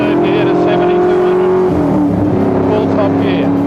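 A Holden race car at Lakeside Raceway accelerates hard, its engine note climbing and then shifting under a continuous loud roar. A commentator talks over it throughout.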